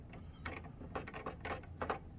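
Screws are backed out of a never-opened SCPH-39001 PlayStation 2 console, giving a faint, close, continuous ratcheting and grinding with small metallic clicks.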